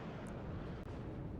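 A SEAD aircraft strike coming in during a WARNO match, heard as a loud, continuous roaring rumble that fills the whole moment with no clear breaks.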